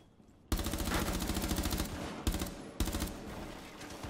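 Automatic gunfire in Rainbow Six Siege: a loud, rapid sustained burst after a quiet start, followed by two shorter bursts, close and alone without talk.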